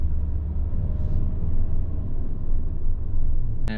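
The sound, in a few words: road traffic, vehicle approaching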